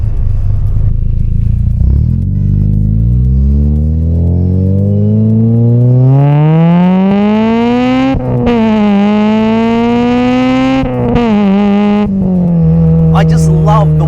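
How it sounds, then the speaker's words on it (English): A Honda Integra Type R DC5 with a Skunk2 Megapower RR 3-inch exhaust and PLM header howls at wide open throttle, its pitch climbing steadily through VTEC crossover, with brief shift dips, loud and continuous throughout. "I just simply love the orchestra that this car makes at wide open throttle."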